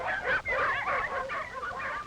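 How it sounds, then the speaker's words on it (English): Dogs that pull mail and supply sleds in the cold north bark and yip in a busy, overlapping chorus for about two seconds, the sound thin and somewhat distant, like an old film recording. "In the cold north, they pull sleds loaded with mail and supplies."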